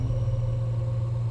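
Chevrolet Corvette Z06 with a 6.2-litre V8, idling or lightly revving, a deep steady bassy hum with a strong low droning tone, close and continuous.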